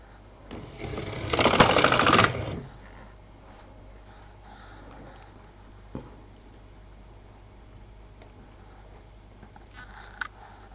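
An LK 150 knitting machine knits a ruffle scarf: one loud rattling sweep of the carriage lasting about two seconds, then quiet with a couple of faint clicks.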